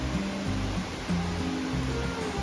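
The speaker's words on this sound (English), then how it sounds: "This is the Orbiton stream. I have to ford this." Water flows steadily through a stream at a ford on the Appalachian Trail, a close, continuous rushing hiss with a low rumble, heard alone without speech.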